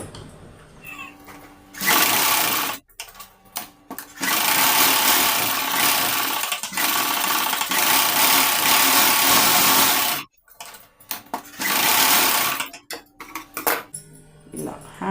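A sewing machine runs in long steady bursts as it stitches the lining of a blouse, stopping briefly several times between runs. The whirring is close and loud, with no talk.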